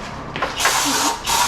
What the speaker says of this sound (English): let's spray down that flywheel again